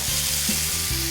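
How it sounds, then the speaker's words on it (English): Bacon strips frying in a hot pan, giving a steady, close crackling sizzle with soft stirring scrapes and no voices. "Ooh, listen to that sizzle."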